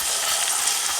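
Garlic and onions for chicken breast adobo sizzle steadily in hot oil in a pan, a loud, close, even frying hiss with no one speaking over it.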